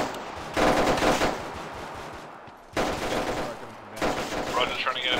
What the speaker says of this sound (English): I got heavy gunfire coming from east, southeast of the street.